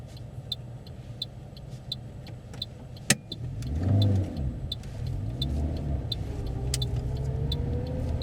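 Car engine revving hard during a hill start on a driving test, a low rising-and-falling rumble that swells near four seconds and settles into a steady drone, with a sharp click partway through and ticking indicator-like taps throughout.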